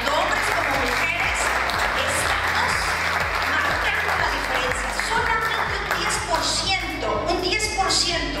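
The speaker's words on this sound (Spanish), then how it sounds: "por favor, un fuerte aplauso, tanto hombres como mujeres." A crowd at an award event for women applauds loudly and steadily, broad clapping under heavy low rumble with some voices and cheering mixed in throughout.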